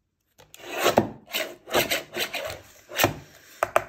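A paper trimmer slicing through English-size card at a 4 inch length, giving a series of close, dry rasping scrapes in short bursts, with no talking.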